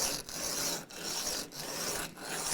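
Small pieces of sandpaper rubbing grub screws flat on a Rally GL300, a steady close raspy scraping in four back-and-forth strokes with brief pauses between them.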